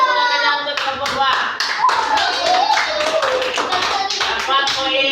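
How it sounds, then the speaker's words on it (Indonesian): Children in a classroom clap for group 2, a dense, steady patter of many small hands lasting throughout, with children's voices chattering and calling over the applause. "Kasih tepuk tangannya untuk kelompok 2."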